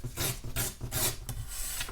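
Paper being torn from a heavily coloured junk journal page, a close, quiet series of rough ripping strokes in quick succession.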